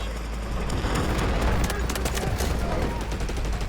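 Rapid gunfire from the military shooter game Delta Force, dense overlapping bursts sustained throughout at steady loudness, with faint voices underneath.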